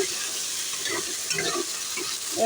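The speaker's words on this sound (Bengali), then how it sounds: "ভালো করে একটু কষিয়ে নেব লবণ হলুদ ও লঙ্কা বাটা দিয়ে ভালো করে ভেজে নেব বা কষিয়ে নেব" Elephant foot yam frying with salt, turmeric and chilli paste, a short burst of close sizzling with stirring scrapes, steady and moderately loud, no talk.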